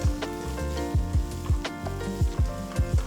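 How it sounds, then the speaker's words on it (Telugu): Onions sizzling and frying in a pan for a masala pav snack, a steady close hiss broken by repeated stirring scrapes and clatters at a fairly even rhythm, with no talking. "ఉల్లిపాయలు మరీ వేగనక్కర్లేదు, 2-3 నిమిషాల వరకు వేపితే సరిపోతుంది"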